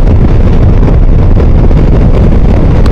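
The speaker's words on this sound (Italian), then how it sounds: "Si è alzato un vento fortissimo che veramente disturba la guida" Strong, steady wind roars and buffets the microphone while riding a Ducati Multistrada V4 S motorcycle through a valley. The loud, dense rumble goes on without a break and masks any engine sound.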